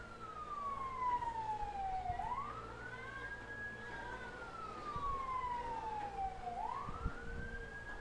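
A fire truck siren wails at a house fire in an alley in Pateros, sweeping slowly down and back up twice, heard at a distance over faint street noise.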